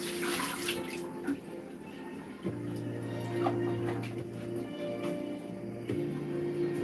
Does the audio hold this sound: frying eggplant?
no